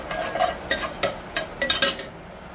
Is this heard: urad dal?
yes